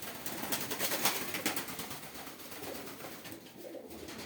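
Pigeons coo softly amid a busy, fluttery chorus of birds, a steady low murmur with a few sharper chirps and rustles throughout.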